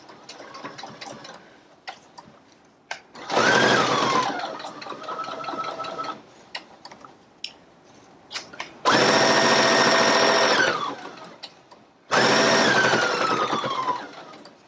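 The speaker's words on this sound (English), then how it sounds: "So I'm going to go ahead and attach the Velcro. And you're just going to stitch it right along the edge." A sewing machine stitches Velcro along a fabric edge in three loud, fast whirring bursts, separated by quieter stretches of soft handling, clicks and small knocks, with no talking.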